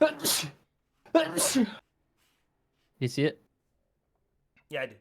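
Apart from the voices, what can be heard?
sneeze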